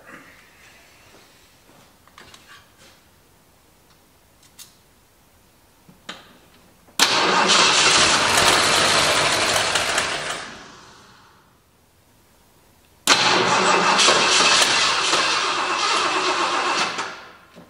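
A 1977 Ford Highboy truck engine cranks and tries to start, two loud sustained bursts of churning engine noise a few seconds apart, each several seconds long, after quiet clicks and shuffling.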